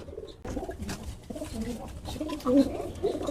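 A racing pigeon coos in a few soft, throaty bursts close by, with a voice talking over and between the calls.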